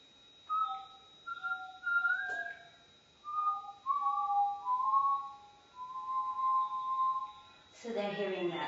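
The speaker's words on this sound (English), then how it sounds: "it's a different experience than when you whistle from downstairs and people hear you upstairs" Someone whistles a slow, clear melody of held notes in phrases separated by short pauses, heard in a quiet indoor space, and a brief voice breaks in at the end.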